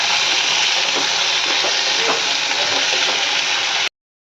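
Chopped vegetables sizzle and frying in a pan over tempered spices while being stirred, a steady close crackling hiss with scraping stir sounds throughout, no voices.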